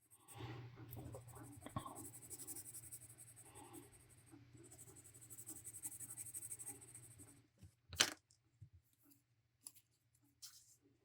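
Colored pencil shading in light gray over toothy drawing paper: a soft continuous scratchy rasp of strokes, close and quiet, broken by a few sharp taps and clicks near the end.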